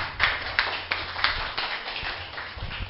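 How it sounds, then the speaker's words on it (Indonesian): Scattered, fairly faint hand claps from an audience at a leadership seminar, a handful of sharp slaps arriving in a loose, uneven rhythm over low background rumble. "Tepuk tangan"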